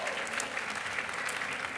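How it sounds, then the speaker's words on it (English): Steady applause from an audience at a New York media awards night hosted by the mayor, dense clapping holding an even level throughout the short stretch with no pause. "they deserve a round of applause"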